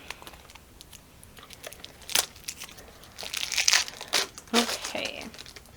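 Plastic baggies from an Embarcadero board game box crinkle and rustle up close in scattered bursts, growing louder and busier toward the end, with quiet handling in between.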